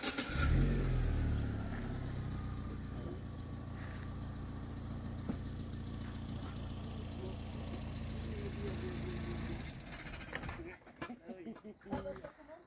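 A car engine at a drift driving course idles and revs steadily for most of the span, fairly quiet and distant, then cuts out near the end as the engine stalls, leaving brief handling noises.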